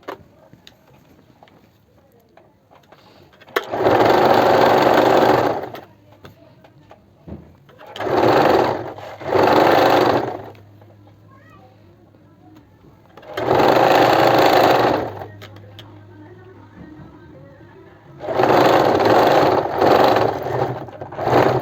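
Sewing machine stitching a kurti hem, running in four or five separate bursts of a few seconds each, with quiet pauses between runs and no talking.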